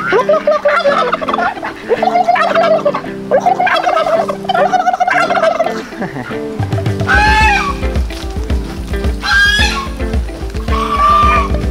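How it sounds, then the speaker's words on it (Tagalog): Turkeys gobble loudly and repeatedly, close by on a farm in the Philippines, their rapid warbling calls overlapping, with other farm noise and a low rumble underneath. "May mga alagang pabo sa dito sa farm niya."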